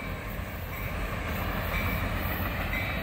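Freight train passing with an IC SD70 and a CN GP38-2W locomotive, the GP38-2W running long hood forward; a loud, steady rumble of rolling wagons fills the whole span with no talk.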